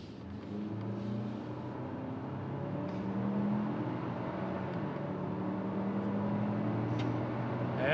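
A 2024 Ford Ranger Lariat pulls hard at full throttle, its engine drone heard from inside the cab, steady and moderately loud with a gradual rise in pitch as the truck gathers speed.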